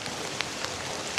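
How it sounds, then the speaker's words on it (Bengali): Steady, dense rain hissing down in Dhaka during a day of heavy downpour, a constant wash of noise with a few sharper drips or splashes standing out, heard close by with no talking. "দেখেন শুধু বৃষ্টি আর বৃষ্টি।"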